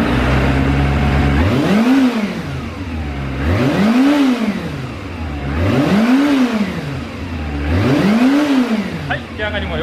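A Kawasaki ZRX400 motorcycle engine starts and revs, rising and falling in four strong, evenly spaced swells over a steady loud idle, close up.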